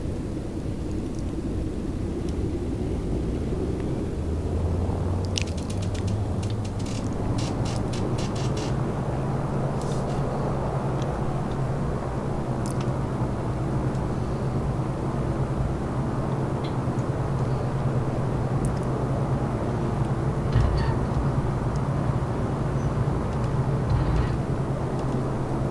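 The twin engines of a C-46 transport in the MSFS2024 flight simulator drone loud and steady through the takeoff roll from KGLS, their tone rising and strengthening partway in, with scattered clicks over the constant roar.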